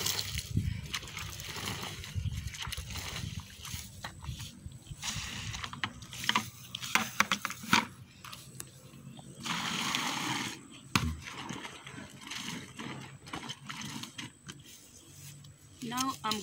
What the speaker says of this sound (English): I'm just going ahead to rinse the rugs that I used to wash the house